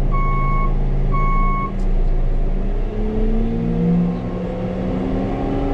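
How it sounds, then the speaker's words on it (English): A Paus swing loader swinging out to the side, its reversing alarm sounding two steady beeps over a continuous low diesel engine drone and mechanical rumble. "So the boom swung out, or the loader swung out to the side"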